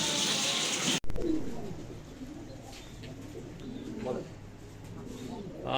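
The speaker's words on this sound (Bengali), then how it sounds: "আজকে তো দেখলাম মাশাল্লাহ অনেক কবুতরের কালেকশন রয়েছে" Pigeons coo at a pigeon farm in soft, repeated low calls, following a brief burst of noise at the start, with voices faintly in the background.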